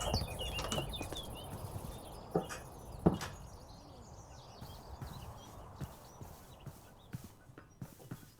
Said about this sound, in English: Some horses, but I don't need those yet.